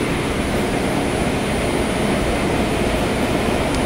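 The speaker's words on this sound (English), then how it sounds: "Got some fans blowing into the controllers." Fans blowing air into 1980s traction elevator controllers in a machine room, producing a steady, loud, unbroken whoosh with a faint high whine, nearby and with no speech.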